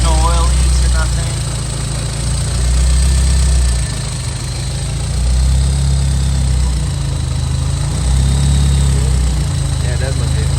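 A Honda S2000 project car's engine idles just after starting, a loud, close, low rumble that holds steady with slight surges, with people talking faintly in the background.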